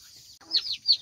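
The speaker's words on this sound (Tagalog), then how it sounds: "yan na pala yung putad X labuyo ko" Putad x labuyo bantam chickens giving soft, short clucks, two or three brief calls after a near-silent start, faint and close.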